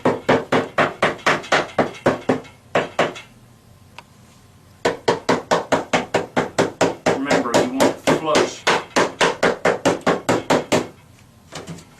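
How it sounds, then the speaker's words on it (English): Rapid, steady hammer taps knock a wooden cabinet drawer part into place in two long runs separated by a short pause, close and sharp, each blow evenly spaced. "you'll need the hammer to just tap it in there"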